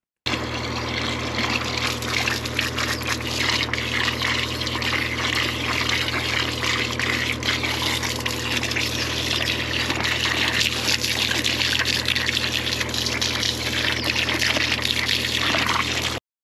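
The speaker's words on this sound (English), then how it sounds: "you can probably tell my jetter's running out of water a bit" Sewer jetter spraying water as its supply runs low, a loud, steady hiss and gush with a low mechanical drone underneath, continuous throughout without breaks.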